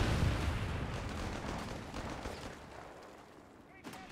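A grenade blast in Company of Heroes 3 lands as a heavy low boom that trails off into rumbling battlefield noise, with a commentator talking over it and a sharp small crack near the end.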